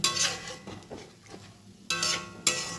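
A spoon scrapes and clinks against a pan while ghughni masala is stirred and sautéed, with a few sharp metallic knocks standing out near and loud over softer scraping.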